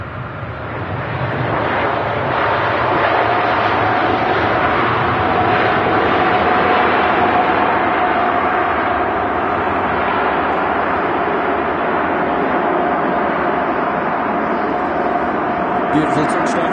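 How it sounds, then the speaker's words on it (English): Emirates Airbus A380 jet touching down at Manchester Airport, a loud, steady broadband engine roar sustained throughout, with no talk over it. "the Emirates A380 touches down at Manchester"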